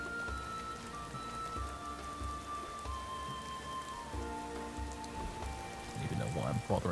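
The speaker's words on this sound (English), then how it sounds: "it's raining" Rain falling in the video game Skyrim Special Edition: a steady, soft patter on surfaces under faint ambient tones, with a louder burst of sounds near the end.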